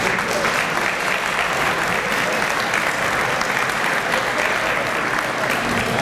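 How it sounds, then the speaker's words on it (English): Banquet audience at a high school Hall of Fame induction gives a loud, sustained round of applause, dense clapping continuing evenly throughout, with a hint of crowd murmur beneath. "We give our Hall of Fame committee a round of applause."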